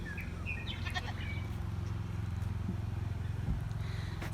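Goats in a homestead goat pen bleat a few times, and the short calls rise over a low, steady rumble of background noise.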